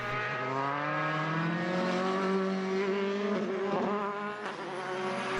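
Racing cars, among them Peter Dwyer's Lola, circulate at the Mondello race circuit in Ireland, giving a continuous engine drone that rises and falls in pitch at moderate distance, with no voices.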